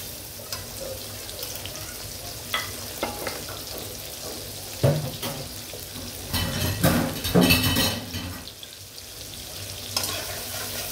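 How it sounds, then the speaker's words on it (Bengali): Chopped onions fry in oil in a pan just after fish was fried, a continuous sizzle with intermittent stirring, scraping and pan clatter that swells into a busier burst midway, heard close with no talk. "পেঁয়াজটি ভাজা হোক"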